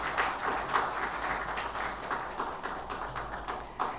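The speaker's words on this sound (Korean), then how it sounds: "은혜로운 찬양해 주신 성가대원들에게 다시 한번 감사의 박수하겠습니다." A church congregation at a Sunday worship service claps for the choir, moderately quiet and steady applause with some individual claps standing out, lasting about four seconds.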